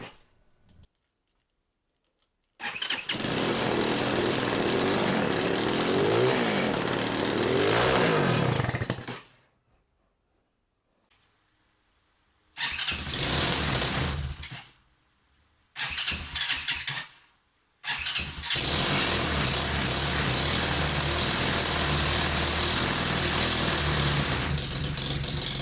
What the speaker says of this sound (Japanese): いまいちアイドリングが安定しませんね。